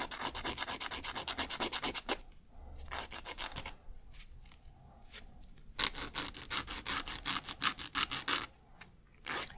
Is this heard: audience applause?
no